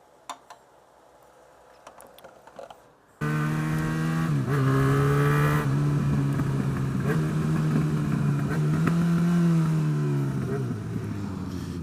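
A car engine that spits flames while warming up bursts to life after a few quiet seconds, then roars loudly at close range with rising and falling revs and crackling exhaust.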